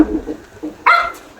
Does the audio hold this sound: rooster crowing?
no